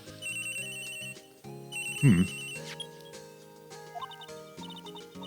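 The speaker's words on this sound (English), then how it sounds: "Taking office calls on your personal phone." Ringing phone in the Phoenix Wright: Ace Attorney video game, a steady electronic ringtone repeating over game music, fairly loud and with no talk over it.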